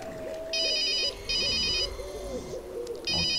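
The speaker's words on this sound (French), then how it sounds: "Encore un petit coup de téléphone." Telephone ringtone from the video game The Curse of Plum Mountain: three bright electronic ringing bursts separated by short pauses, heard over a steady low background hum.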